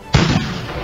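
A single pirate cannon sound effect in a LEGO pirate ship battle: one sudden loud boom with a sharp onset, followed by a rumbling decay that fades over the next half second.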